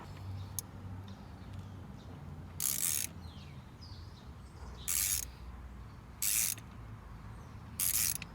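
Clamp on the intake hose of a 2018-2020 Honda Accord Sport 1.5T being loosened, heard as four short bursts of ratcheting or screwdriver clicks spaced a couple of seconds apart against a low, steady background.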